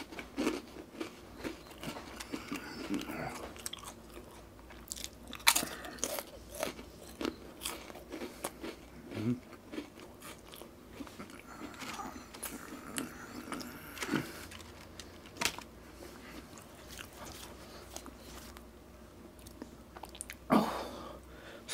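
Crunchy PRAN Potata spicy flavoured biscuits eaten close to the microphone, with repeated crisp bites and crackling chewing that come in irregular bursts throughout, no speech.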